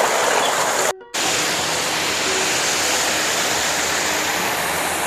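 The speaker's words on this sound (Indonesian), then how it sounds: "Di sini ada sungai dan ada curug" A river and waterfall (curug) in rural Subang roar as a loud, constant broadband rush of water, with one brief cut to silence before the flow resumes unchanged.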